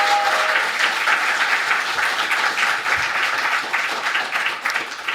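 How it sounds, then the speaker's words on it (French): An audience breaks into sustained applause for Laurent at a talk about journalism during the war in Lebanon, dense steady clapping filling the whole stretch without letting up. "Je vous demande un tonnerre d'applaudissements pour Laurent"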